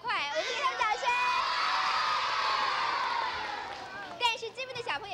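Children in a studio audience at a kids' TV game show cheer and shout together in a loud, sustained burst that swells and fades, with children's voices calling out briefly at the end.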